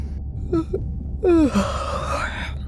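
A short vocal gasp followed by a drawn-out, wavering yawn-like exhale from a video game character, close and clear over a low steady hum.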